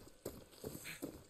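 A horse's hooves clip-clop in the video game Far Cry 6, with three quiet, evenly spaced hoof strikes over a low background hum.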